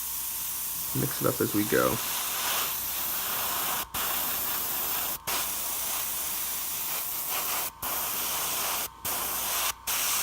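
An airbrush sprays blue paint onto the tips of a Nebulous model in a steady close hiss. The spray breaks off briefly several times, and someone talks over the start.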